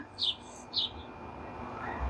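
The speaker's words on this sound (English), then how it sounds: "I'm also gonna put some photos of or videos I took of some birds, a couple of birds." Two clear, high bird chirps about half a second apart stand out, followed by quieter outdoor ambience.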